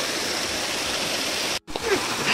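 A waterfall and stream on the Prabalgad fort trek near Mumbai, a loud, steady rushing roar of falling water that cuts out briefly and then resumes, close and constant.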